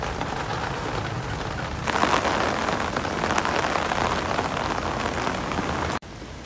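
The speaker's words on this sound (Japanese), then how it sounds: "今日は台風が近づいてるみたいにね、結構風も強くて朝からずっと雨が降ってます" Heavy typhoon rain pours steadily outdoors, driven by strong wind, a dense continuous hiss that swells louder after a couple of seconds and drops sharply near the end, with no talking.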